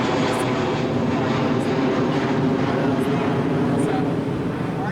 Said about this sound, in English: the airplanes are still as loud as they used to be.